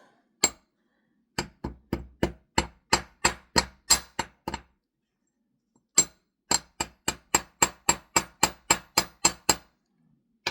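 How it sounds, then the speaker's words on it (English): Two bursts of sharp metallic hammer strikes on a wire loop, about eight then fourteen blows, struck at a steady, fairly quick rhythm with a brief pause between the runs. "now let's hammer the loop"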